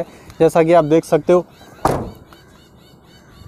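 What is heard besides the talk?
Mahindra Scorpio door being shut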